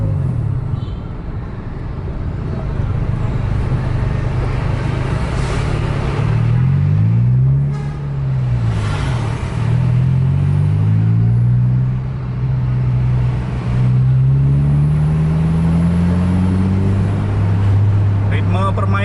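Scania buses race along the Pantura road, their diesel engines droning loud and close, pitch rising and falling as they shift gears and accelerate, while people talk over the engine noise.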